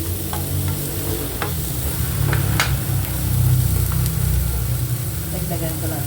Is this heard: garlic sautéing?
yes